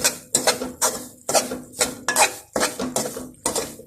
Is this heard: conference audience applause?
no